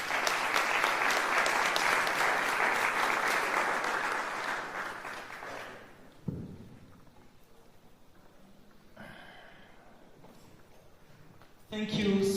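Dense, loud audience applause fills a graduation ceremony hall for about six seconds, then fades into quiet room tone with brief murmurs and a short burst of noise at the end.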